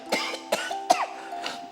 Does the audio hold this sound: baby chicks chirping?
no